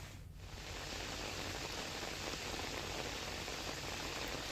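Heavy monsoon rain pours steadily in Vadia, Amreli, a dense, continuous hiss of downpour that stays loud and even throughout, with no voices.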